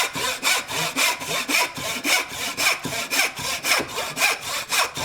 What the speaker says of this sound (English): Use the full length of the saw.